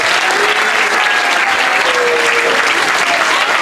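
Audience at a temple drama for the appearance day of Lord Balaram gives a big round of applause for the performing grandchildren, with dense steady clapping throughout, loud and close, with a faint crowd murmur.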